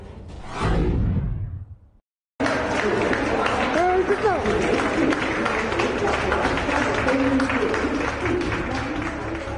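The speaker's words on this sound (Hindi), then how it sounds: "तालियों के बीच" Applause and crowd noise on a railway platform as a Nagpur–Lucknow special train carrying migrant workers departs, a sustained dense clatter of clapping mixed with babble and whooshing after a short pause.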